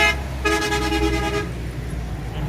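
A single sustained motorcycle horn honk from a 200cc bike, lasting about a second, loud and close, over a low engine rumble that continues after it stops.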